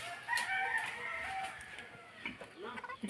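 Chickens cluck and a rooster calls faintly in the background, with soft farmyard noise and occasional muffled sounds.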